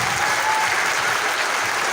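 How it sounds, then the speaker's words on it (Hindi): An indoor audience claps steadily and loudly at an event, a dense continuous wash of applause with no pauses. "आपने जोरदार तालियां बजाइए आप।"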